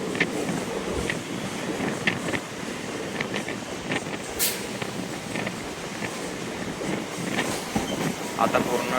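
A Mumbai local train pulls into Churchgate station with a steady rumbling roar, rattling carriage clicks and wind buffeting the microphone. Faint crowd voices sit underneath the noise.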